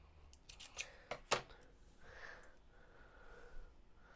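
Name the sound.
cutting the thread end with scissors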